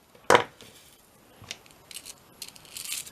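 Scissors snipping bling embellishment for a double pocket scrapbook page: one sharp, close snip followed by a few lighter clicks and faint rustling of craft materials, with no voices.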